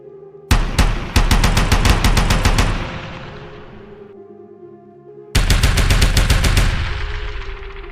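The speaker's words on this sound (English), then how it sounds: "The Russian soldier comes under sustained fire, with projectiles striking dangerously close as the firefight rages around him." Sustained gunfire in a firefight: two long bursts of rapid automatic fire, very loud and close, each trailing off into a rolling echo, with a brief quieter gap between them.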